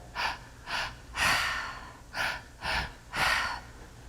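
Deep breathing during a guided meditation, a series of six audible breaths, short sharp inhales mixed with longer drawn-out exhales, close and fairly loud with no speech.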